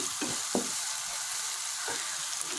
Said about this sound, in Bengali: প্রায় 7 মিনিট থেকে 8 মিনিট থেকে আমি এই পেঁয়াজ কুচিটা কষাইতেছি